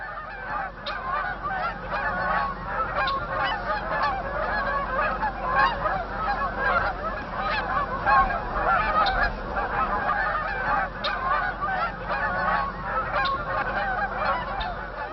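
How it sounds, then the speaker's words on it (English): A large flock of geese and other waterfowl honking continuously at a wildlife refuge marsh in fall, a dense overlapping chorus of calls at moderate distance with no talking. "There's nothing like the sight of waterfowl streaming across the sky, talking their way south to indicate that fall has truly arrived"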